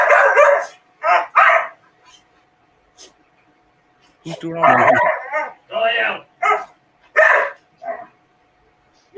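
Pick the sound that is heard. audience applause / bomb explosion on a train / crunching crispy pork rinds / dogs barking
dogs barking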